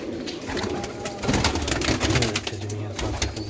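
Pigeons coo softly in a low, murmuring chorus inside a cage, amid scratchy rustling and a busy background.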